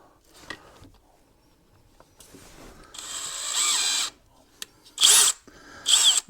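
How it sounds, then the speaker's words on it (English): Larger drill bit grinding into plastic on a 2015 vehicle's crankcase ventilation part, starting with faint handling noises, then a loud whirring run followed by two short sharp bursts of drilling. "Now I'm going to go in with a little bit bigger drill"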